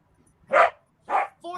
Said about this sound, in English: dogs fighting in my living room right now